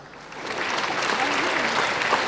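Steady applause from a crowd at a Ghanaian comedy show, building slightly and holding as a dense wash of clapping, with a voice faintly underneath.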